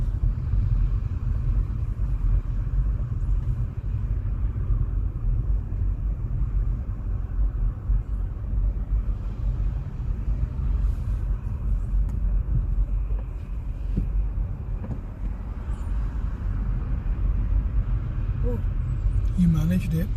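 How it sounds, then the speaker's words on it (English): Car engine pulling steadily in second gear during a beginner's driving lesson on busy Leeds roads, a constant low rumble with road noise throughout, talk over it. "Now gear 2. So the engine doesn't make a lot of noise."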